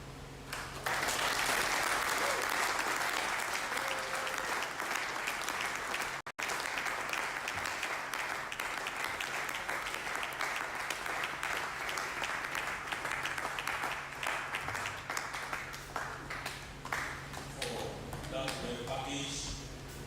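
Long, dense round of applause from an audience after a lecture on interfaith cooperation in military settings, loud and sustained for many seconds before gradually tapering off.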